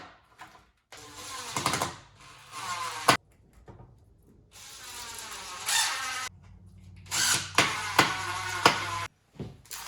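A power drill whirs in repeated bursts as screws drive casters into a homemade shop stand, with short pauses, clicks and knocks between runs in a workshop.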